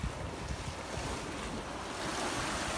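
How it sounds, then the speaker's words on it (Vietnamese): Sea waves wash steadily onto the shore at Tân Thành beach in Gò Công, a loud, continuous surf roar mixed with wind buffeting the microphone. "đứng đây nghe sóng biển vỗ về rất là đẹp luôn."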